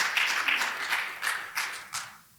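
An audience gives a short round of hand clapping, a blurred wash of claps with a few louder bursts that fades out quickly at the end.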